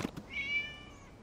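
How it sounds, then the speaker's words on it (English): A cat in a video game gives a single short, clear meow, fairly soft and close, after a brief scuffle of sound, with no voices. "It was just a cat."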